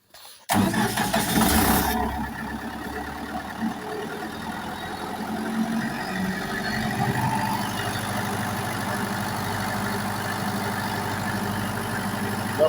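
A 60 kVA diesel generator cranks with a sudden loud burst of starting noise, then settles into a steady, moderately loud idle rumble that continues alone for about ten seconds.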